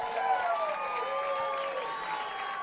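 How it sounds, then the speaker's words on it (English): An audience at a fight club boxing event applauds and cheers both fighters, a steady wash of clapping and crowd noise at moderate distance while a voice carries over it. "let's give both fighters a big round of applause"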